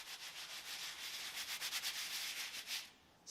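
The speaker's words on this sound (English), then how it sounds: "Spread sawdust all over your gloves. Boom, bone dry." Gloves are rubbed briskly in sawdust, giving a close, soft scratchy rustle in quick repeated strokes before it stops.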